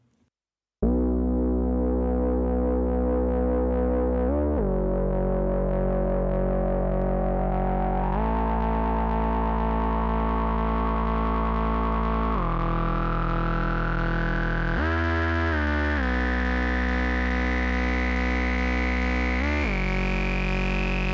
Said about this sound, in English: play these nice gritty analog bass notes and filter them the way only an MS-20 can do